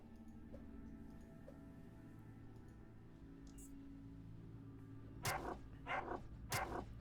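A lone hostile dog in the video game Underrail barks three times in quick succession near the end, loud over a steady low game hum and faint ticking.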